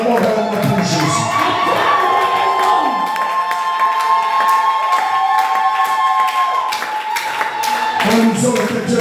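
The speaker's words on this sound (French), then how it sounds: "Acclamons vraiment pour Jésus" A church congregation cheers, shouts and claps for Jesus, sustained loud jubilant crowd noise with voices and rhythmic hand claps throughout.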